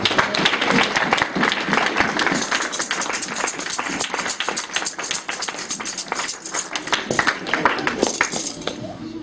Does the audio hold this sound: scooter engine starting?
no